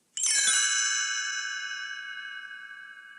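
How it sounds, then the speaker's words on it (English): A bright chime rings once as a page-turn signal in a read-along book-and-audio recording of Disney's "Jingle Bells", striking clearly and then sustaining a long, slowly fading shimmer with nothing else heard. "You will know it is time to turn the page when you hear the chimes ring like"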